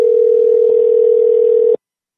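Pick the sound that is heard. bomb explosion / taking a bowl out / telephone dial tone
telephone dial tone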